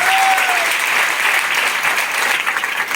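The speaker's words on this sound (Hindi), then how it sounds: "जोरदार ताली होने चाहिए" An audience at a stage sharing event claps loudly and continuously, a dense close wash of applause with a brief whistle-like tone at the start, steady throughout.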